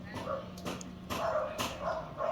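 A freshly bathed dog barks and yips near a gate after an ivermectin pour-on treatment, a few short sharp barks at close range over a steady low hum.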